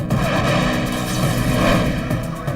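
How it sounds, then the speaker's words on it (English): Massive bomb detonation at the Cuban mission to the United Nations in uptown Manhattan: a loud, sustained rumbling blast with heavy low-end roar filling the whole stretch, no voices. "A massive bomb detonates at the Cuban mission to the United Nations."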